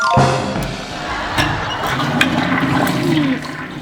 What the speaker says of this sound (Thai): เสียงกดชักโครกนี่